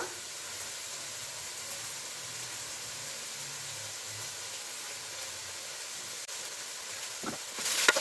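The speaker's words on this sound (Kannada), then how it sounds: "ಈಗ ಎಣ್ಣೆ ಹಾಕ್ತಿದ್ದೀನಿ ಸ್ವಲ್ಪ." Oil heats in a pan while cooking palak: a steady, even hiss runs throughout, and near the end a brief, louder crackling flare breaks in. No one speaks.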